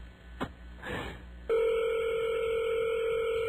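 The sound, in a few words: telephone ringing on a call to a fast food restaurant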